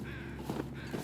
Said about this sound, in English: We can hear crows as well